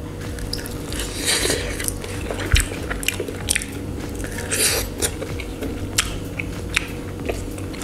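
Someone biting and chewing a garlic chicken wing roasted in an air fryer, close, crunchy bites and wet mastication repeating steadily, with a sharp crunch partway through.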